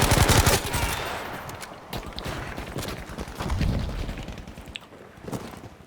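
Rapid bursts of automatic fire from a fast-firing weapon in Battlefield V on a Solomon Islands jungle map, loud and close, rattling in dense clusters with heavier thumps through the middle.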